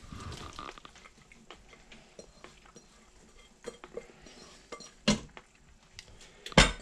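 Vegetables tipped into a pot of water held just below boiling for blanching egg-roll filling, a few loud clattering splashes and clinks of pot and utensil standing out over quiet kitchen background.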